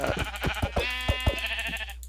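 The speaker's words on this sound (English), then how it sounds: "I'll find more sheep later." Sheep in the Minecraft video game bleat repeatedly, several short wavering calls close together and clearly audible over a steady low hum.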